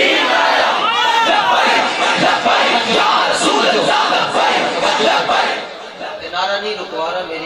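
A large crowd at a religious gathering at Dhamial Camp in Rawalpindi roars a religious slogan in unison, loud and sustained, with massed voices rising and falling before easing toward the end.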